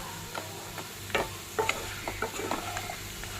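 Food frying in a pan, a soft continuous sizzle broken by scattered clinks and scrapes from stirring, close and quiet with no voices.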